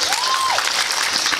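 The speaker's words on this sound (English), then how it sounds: "Give him a round of applause." A short burst of audience clapping at an outdoor vegan festival acro-yoga show, a dense, even patter of hands with a faint whistle-like tone riding over it near the start.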